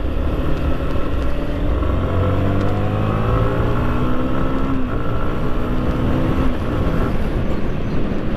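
A Yamaha MT-15 motorcycle with single-channel ABS hums loudly and steadily at around 70 km/h during a brake test, its engine drone shifting in pitch as the bike slows, with constant wind rush and no talking.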